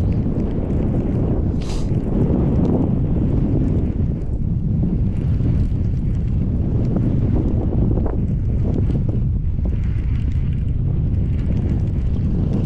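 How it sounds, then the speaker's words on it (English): Strong wind buffeting the microphone outdoors on a bank during early spring bass fishing, a loud, continuous roaring rumble with gusty surges throughout and no speech. "Sorry about the wind."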